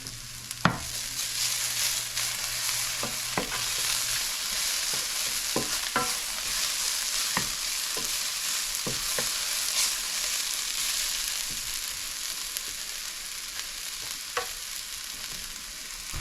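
Salmon fillets and mushrooms with thyme sear in a hot pan, giving a steady close sizzle with scattered crackles and light pops throughout, no voices.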